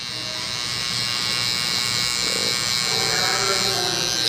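Electric hair clippers buzz steadily and close while cutting hair for a low taper fade, with faint talk in the background.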